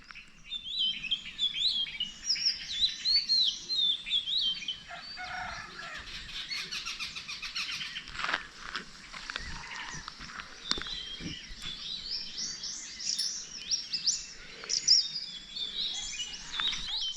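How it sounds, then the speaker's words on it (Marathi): Birds chirp and tweet steadily through a village morning, many overlapping calls near and far forming a continuous, lively dawn chorus with no voices. "गावाकडची सकाळ झाली आहे पाखरांचा किलबिलाट पण"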